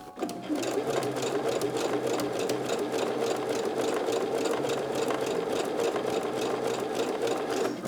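Sewing machine stitching elastic onto underwear fabric, a close, steady rapid mechanical hum with rhythmic needle clatter running unbroken throughout.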